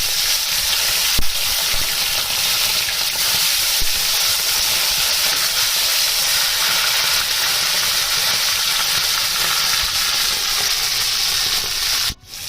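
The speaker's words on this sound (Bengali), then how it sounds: "তেল গরম হয়ে গেছে, এবার আমি মাছগুলোকে দিয়ে দিলাম।" Pomfret fish fry in hot oil in a kadai, giving a loud, constant close sizzle and hiss that runs unbroken until a sudden stop at the end.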